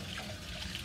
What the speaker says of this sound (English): I'm going to have to rinse them off more thoroughly.